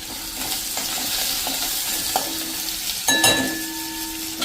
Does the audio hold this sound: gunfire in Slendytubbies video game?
no